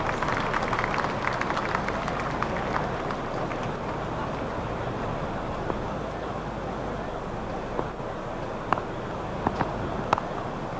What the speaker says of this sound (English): Crowd are giving him a great round of applause as they appreciate the importance of this knock.